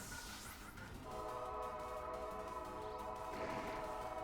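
A train in the Pokémon Violet video game sounds its horn, a sustained whistle-like tone over a steady rumbling rolling noise. It is fairly loud and continuous, with no talking.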